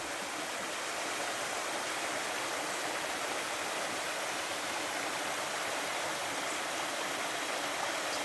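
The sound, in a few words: stream water flowing in Brocéliande forest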